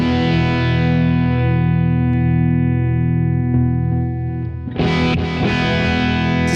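Electric guitar played through a Positive Grid Spark 40 smart amp on its Glassy preset, a sustained chord ringing with a dense, shimmering tone before a fresh strum near the end; loud and alone, with no talking.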